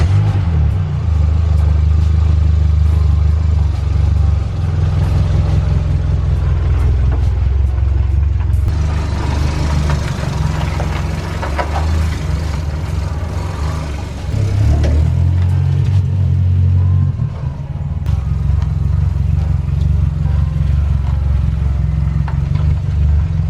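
A Volvo 340's car engine runs steadily with a deep, loud idle rumble and some clatter, rising briefly in revs midway before settling back to a steady idle, with no talk.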